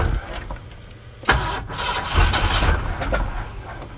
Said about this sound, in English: That was a carb backfire.